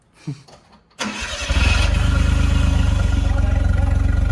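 A Suzuki Jimny engine cranks and catches after a quiet moment, then settles into a loud, steady, throbbing idle with rising revs, heard close to its small tailpipe.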